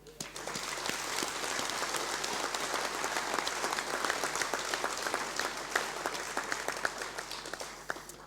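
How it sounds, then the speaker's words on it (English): Warm, sustained applause from a conference audience at a deer industry awards event, honoring the Clisser family. The clapping is dense and steady throughout, with scattered sharper claps standing out near the end. "it would be right to have a round of applause for the Clisser family"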